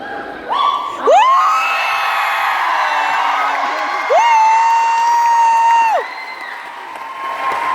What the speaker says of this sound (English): I could not hear any of it because of the screams